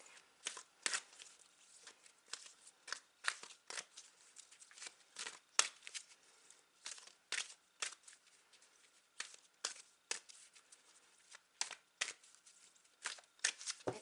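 Tarot cards are shuffled by hand in a quiet room: many quick, faint, crisp riffling flicks come in irregular bursts throughout, with no voices.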